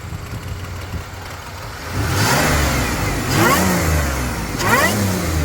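A Pontiac Grand Prix's 3800 V6 engine revs up hard three times, each rise carrying a high mechanical whine over a throaty growl, close and loud.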